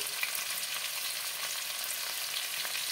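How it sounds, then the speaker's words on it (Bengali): Mutton frying with cumin, coriander and turmeric in a pan, a steady, even hiss of sizzling oil, close and continuous, with no talk. "মটনটা ভাজা হয়ে গেছে, দিয়ে দেব জিরে গুঁড়ো, দেব ধনে গুঁড়ো, দেব আন্দাজ মতন হলুদ"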